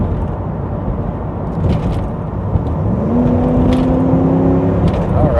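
A 1980s Trans Am GTA or IROC Z28 accelerates with transmission kickdown, its engine droning steadily from inside the car, then a rising whine climbing in pitch as it speeds up, loud and continuous.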